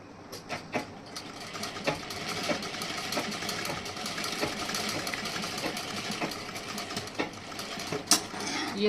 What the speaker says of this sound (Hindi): अब ऐसे हमें इस तरीके से ऊपर की साइड में ऐसी सिलाई लगानी है।